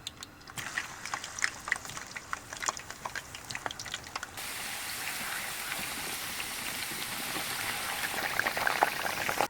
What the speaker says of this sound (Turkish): Çanak haline getirdiğimiz patateslerimizi yağın içerisine koyup kızartmaya başlıyoruz.